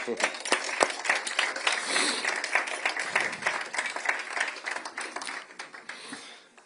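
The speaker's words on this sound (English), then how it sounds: "please clap for them" Audience clapping at the opening of the Nova Music Exhibition, a dense patter of many hands filling the room, with voices talking over it throughout and the clapping thinning slightly toward the end.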